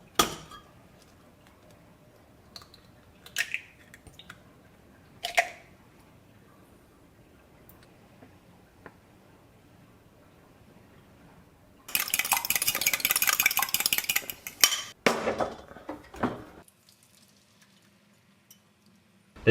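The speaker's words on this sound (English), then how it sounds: "This is a new frying pan, so I'm trying to make scrambled eggs in it." Scrambled eggs cooking in a new frying pan: scattered light clinks and taps, then a loud burst of sizzling for a few seconds before it settles to near quiet.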